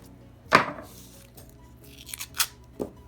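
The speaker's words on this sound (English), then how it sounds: "we're just going to cut this salted butter in half" A knife cuts through a stick of salted butter on a board, giving a few soft thuds and dull scraping taps spread across a quiet kitchen moment.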